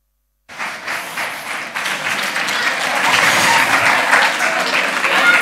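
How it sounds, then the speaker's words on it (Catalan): Audience applause at a digital culture event bursts in suddenly after silence, a dense crowd clapping that swells and stays loud and steady for several seconds. "Un fort aplaudiment per mi."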